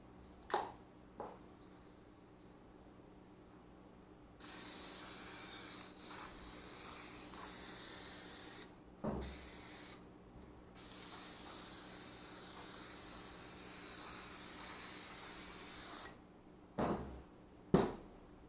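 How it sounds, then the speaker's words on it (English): Spray adhesive hissing from a can onto the back of upholstery material for a 1964 Ford Falcon package tray, one long steady spray burst with short taps and handling noises before and after. "We're going to spray the back side of our material."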